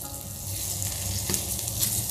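Surmai fish fries uncovered in oil over a medium flame, a steady, dense sizzle and crackle that fills the whole short stretch at an even, fairly loud level.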